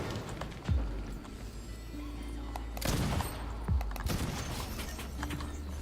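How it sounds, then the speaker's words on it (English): Gunfire in the video game Fortnite: several sharp distant shots and short bursts scattered over a steady background hum, fairly faint overall. "His buddy's still shooting at you."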